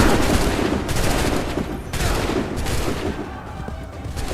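A musket volley rings out in Assassin's Creed III, loud ragged bursts of overlapping gunfire with a second volley about two seconds later, each trailing into smoky crackling echoes.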